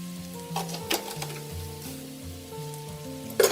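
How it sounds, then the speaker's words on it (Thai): Garlic is stir-fried in a pan for braised pork leg, giving a soft, steady sizzle broken by occasional light clicks and scrapes of stirring, quiet with no talk. "เราผัดจนเริ่มมีกลิ่นหอมแล้วนะคะ"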